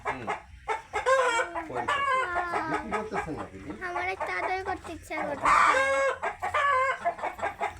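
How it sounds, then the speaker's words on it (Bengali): Quail chirp and call busily in a dense, overlapping chorus close by at a bird park, while people talk over them. "এগুলো সব কোয়েল নাকি কোয়েল পাখি সব"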